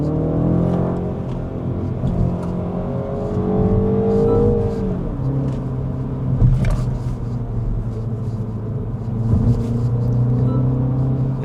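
A 2026 MINI Cooper S with its turbocharged engine accelerating hard in go-kart mode at night, heard from inside the cabin as a steady loud engine drone that climbs in pitch and then shifts, with a brief revving swell near the middle.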